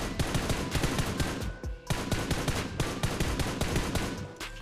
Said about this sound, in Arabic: في صوت رصاص